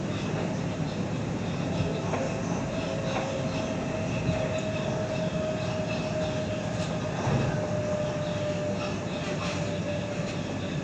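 A train on the T8 Airport & South Central line runs toward Glenfield station, a steady loud rumble and rail noise from inside the carriage, with faint voices underneath.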